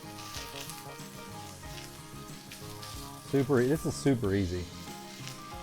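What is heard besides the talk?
pork sausage patty sizzling in a pan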